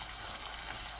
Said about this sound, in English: Yes, I hear it sizzling, so that should be good. It should be hot enough.